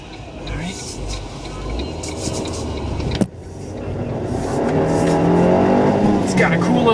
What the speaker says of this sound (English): It's got a cool little engine sound to it.